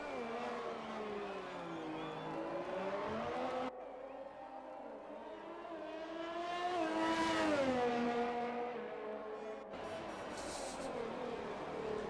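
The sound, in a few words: race car driving a lap at Monaco in the F1 2020 video game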